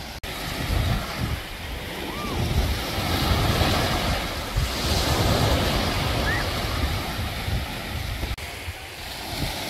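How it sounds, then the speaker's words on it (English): Ocean waves washing at a beach at Tumby Bay on the Eyre Peninsula, a steady broad roar of surf mixed with wind buffeting the microphone throughout. "Alright, Diddley, we're done at the beach this afternoon for our little dip without Mum"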